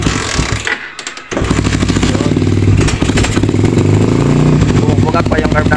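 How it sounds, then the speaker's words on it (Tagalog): Suzuki Raider 150 carburetted motorcycle being kickstarted, a few thuds and clatter, then the engine running loudly and roughly near the microphone with a steady rattling drone and voices over it. "So kickstart muna natin mga boss. Ayaw umandar."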